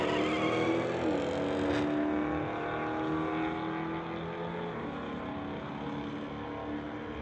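Chevelle and Dodge drag racing down a strip, a loud roaring engine drone that peaks early and then settles into a sustained fading rumble as the cars run off, no talk over it.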